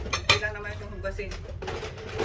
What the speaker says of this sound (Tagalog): Mas malaki yata ang mga nalansing ng mga hinugasan ko kaya sa boses ko